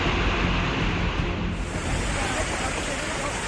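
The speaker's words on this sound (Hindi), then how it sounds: "नाले का पानी सड़कों के ऊपर से बह रहा है।" Floodwater from an overflowing drain rushes over a road after heavy rain in Uttarakhand, a loud, steady broadband roar of flowing water with wind-like noise and no pause, while a voice can be heard speaking faintly.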